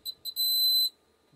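A fire alarm control panel (Kentec Syncro AS) gives two short high beeps and then a longer sustained tone as its reset button is pressed, loud and close, with no talk.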